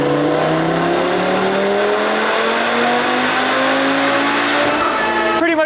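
A 2024 Audi RS3 with an aftermarket intake on a chassis dyno running E35 fuel, engine revving steadily upward in one continuous loud, close pull before cutting off at the end.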